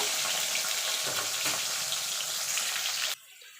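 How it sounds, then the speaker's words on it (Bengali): Potato pieces fry in hot oil, a loud close crackling sizzle that holds steady for about three seconds, then cuts off abruptly to near silence. "লাল লাল করে আলুগুলো ভেজে তুলে নেব"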